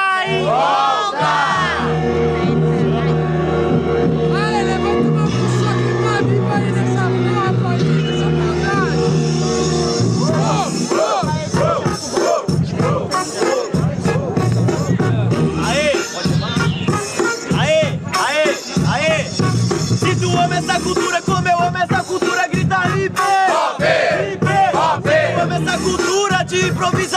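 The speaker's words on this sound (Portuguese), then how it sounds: "muito barulho quem gostou das rimas do Catatau" A crowd at a student rap battle in Guarulhos cheers and shouts over loud, continuous music, with a voice speaking through the noise.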